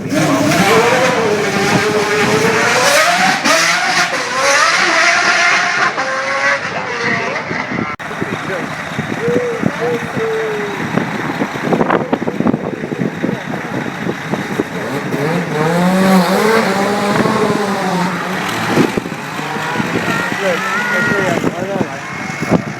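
An Eagle T1G Westlake race car's turbocharged mid-mounted engine revving and roaring at Goodwood Festival of Speed 2012, rising and falling in pitch as it accelerates, loud and close, with people talking over it.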